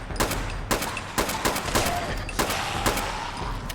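Repeated gunfire in Fallout 76 rings out in sharp, evenly spaced shots about every half second over a steady background of game noise, loud and close.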